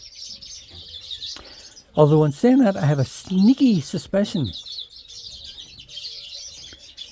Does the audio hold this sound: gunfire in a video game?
no